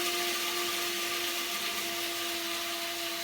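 Coffee beans crushed to a coarse grind in an electric grinder: a loud, continuous, close whirring roar with a steady motor hum, running unbroken for about three seconds without speech.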